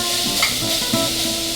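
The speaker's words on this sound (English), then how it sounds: "love to hear that sizzle, one of my favorite sounds" Pork chops sizzling in a frying pan, a steady close hiss of frying with a couple of faint soft taps from stirring.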